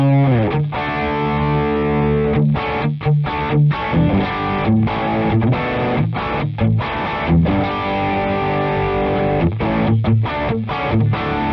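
Electric guitar played through a Boss Katana amp with drive and delay, heavy distorted chords and riffs with choppy stops and repeating echoes, loud and close, no talking.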